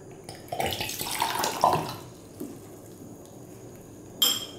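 Liquid is poured from a cellulose solution into a beaker in a chemistry setup, a burst of splashing and trickling for about two seconds, then quiet lab room tone with a brief glassy clink near the end.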